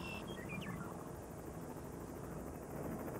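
A helicopter works above a bison herd during a roundup in southern Montana, its rotor a steady, distant droning wash with wind noise across the open range.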